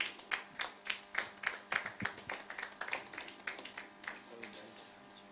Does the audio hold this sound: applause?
yes